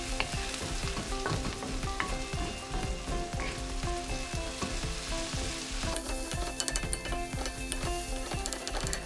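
Onions fry in a pan with salt on high heat, making a loud continuous sizzle broken by repeated rhythmic scrapes from stirring, with no talking.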